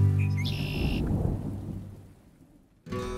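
Thunderstorm with rain used as a title-card effect, a deep rolling thunder rumble over rain that fades away, with a brief tone near the start and a sudden loud return of sound at the end.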